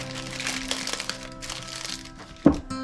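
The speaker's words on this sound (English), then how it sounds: "Put a piece of this deli paper on top." Deli paper crinkles briefly as it is laid over the top of a gift jar, a short close crackle standing out over soft background music.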